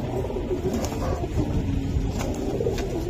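Giribaj pigeons of the Palla line coo repeatedly at a bird market, soft throaty calls close by amid a busy background murmur.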